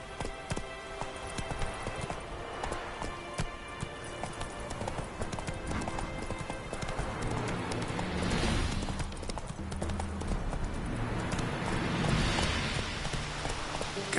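Galloping hoofbeats from Roach, the horse in The Witcher 3, drum in a fast continuous rhythm under a dense game soundtrack, moderately loud and steady throughout.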